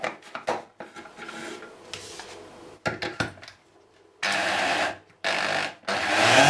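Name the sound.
grinder mill grinding mushrooms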